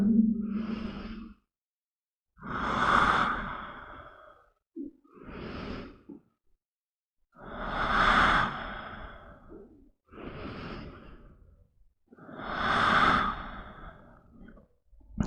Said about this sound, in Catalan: Fes unes quantes respiracions profundes.